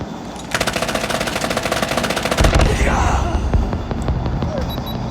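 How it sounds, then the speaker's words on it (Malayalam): Rapid automatic rifle fire in a Call of Duty match rattles out in a dense, loud burst, then gives way to a heavy blast and scattered shots, with a voice talking underneath. "നമ്മൾ അവരെ വെടിവെക്കണം"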